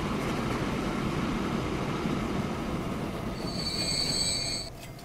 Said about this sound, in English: You're just about to pull into the station.